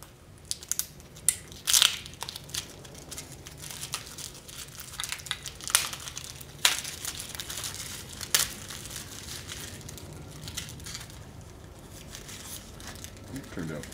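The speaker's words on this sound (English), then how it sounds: "now you'll see why we put that hairspray on there, so we can take this and just peel it right off" A cured carbon fiber landing gear part for an RC plane being peeled off a hairspray-coated mold: close, crackling and crinkling with sharper snaps and pops scattered through a continuous rustle.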